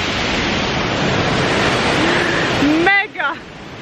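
El Chiflon, a turquoise waterfall in Mexico, gives a loud, steady roar of rushing water that fills the scene. A voice briefly cuts in near the end.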